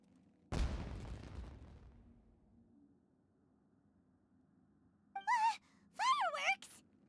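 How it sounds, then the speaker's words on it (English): A single firework bursts in Genshin Impact with a sharp boom and a long fading rumble, followed a few seconds later by brief voiced exclamations. "It sounded like fireworks."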